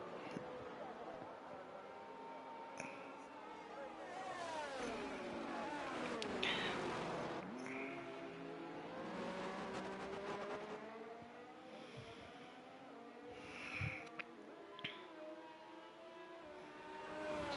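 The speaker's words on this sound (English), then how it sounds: "listening to these shrill engines that I can't stand" F1 race car engines in the video game F1 23 at the Italian Grand Prix whine continuously with shrill, shifting revs, heard faintly under commentary-style talk.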